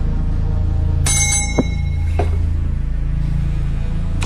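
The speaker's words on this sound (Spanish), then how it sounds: "si yo ahora toco la campana, este señor sale del trance" A small hand bell is rung once in a hushed ritual setting, its bright ringing tone decaying slowly over a steady low hum, with a soft tap and faint knock following, no speech.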